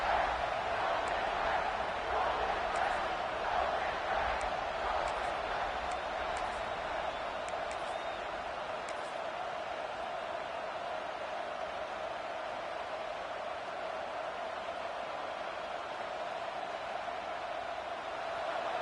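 A football stadium crowd roars steadily in a sustained, distant wash of cheering meant to rally the defense, with a broadcast voice talking over it throughout.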